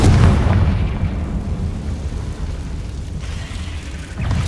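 A Confringo fire spell blasts in Hogwarts Legacy, giving a loud, close explosive boom at the start that rolls into a rumbling low roar, with a second burst near the end.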